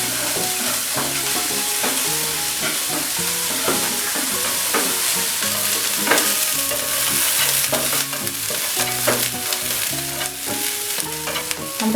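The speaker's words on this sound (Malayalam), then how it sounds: "ഇതിലേക്ക് നമുക്ക് സവാളയും ഒഴിച്ച് കൊടുക്കാം" Sliced onion frying in a small amount of oil in a pan, loud steady sizzling with frequent stirring scrapes and clatters throughout, no voices.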